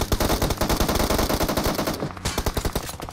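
Fast bursts of automatic gunfire in the battle royale game PUBG ring out close and loud in rapid, repeated shots, with a brief pause before the firing resumes.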